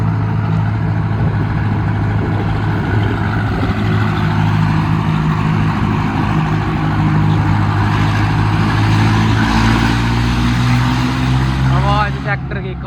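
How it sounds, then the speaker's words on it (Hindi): A Mahindra Arjun Novo tractor engine with a newly fitted turbo revs hard and steady, a loud, close, throaty drone with a rising whine near the end. "आवाज ट्रैक्टर की कातिल"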